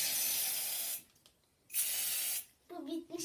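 A nearly empty can of shaving foam sprays in two long hissing bursts separated by a pause, close and loud, followed by a short sputter and faint rattle.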